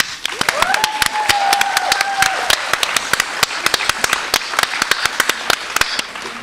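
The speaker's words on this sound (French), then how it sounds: "Allez, on les applaudit." Steady applause from a gala audience in Jonquière for the classes presenting at the final gala of a summer 2012 program, dense clapping sustained throughout with a brief whistle early on.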